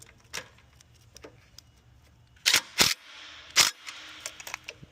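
A ratchet turning a 13mm socket while working on a B200R drivetrain, a few sharp close clicks and short bursts of ratcheting in an otherwise quiet workshop.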